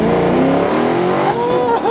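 BMW G87 M2 sports car engine revving hard, loud and close, with rising and falling harmonic tones climbing toward high revs over about two seconds, a voice audible underneath.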